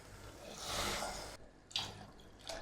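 Water poured into a cooking pot for rice, a steady, faint rushing stream that stops, followed by a couple of brief splashes.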